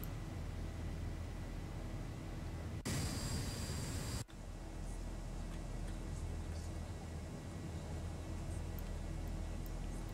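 Steady broadband cabin roar of a Ryanair airliner at cruise on flight FR2137 from Rzeszow to London Stansted, constant throughout apart from a brief louder burst of airflow hiss near the start, with no talk.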